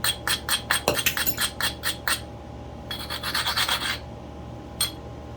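Flint edge being ground by a beginner knapper, a series of close, sharp rasping scrapes in quick rhythm, then a pause and a second run of denser scraping strokes, with one last brief scrape near the end.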